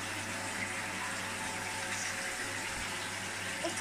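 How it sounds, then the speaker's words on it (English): Bath filling from the tap, a steady, fairly faint rush of running water pouring into the tub with a low hum beneath, continuous and unbroken. "I'm going to be filling up my bath just so I can go in"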